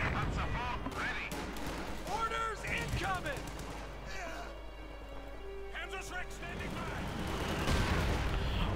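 Mortar fire and explosions in a Company of Heroes 2 2v2 match, with booming blasts and crackling gunfire mixed into the battle noise, heard under steady commentator talk throughout.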